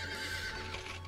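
A stone horse in the Star Stable Online video game whinnies in one loud, sustained, close neigh over a steady low hum, with no talk.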